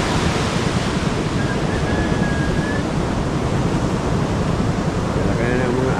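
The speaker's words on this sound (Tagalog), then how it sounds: "malalaki na ang alon" Steady roar of heavy surf with wind buffeting the microphone, a constant wash of crashing waves close by, with no break in the noise.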